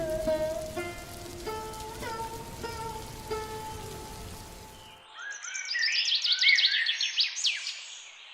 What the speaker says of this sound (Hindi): उस रात की भारी बारिश और तूफान